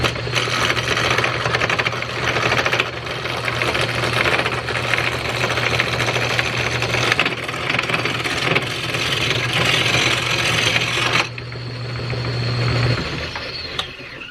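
Steady, loud scraping and grinding of a large gouge working wood runs for about eleven seconds with a constant motor-like hum beneath, then eases into a quieter, rising whir near the end.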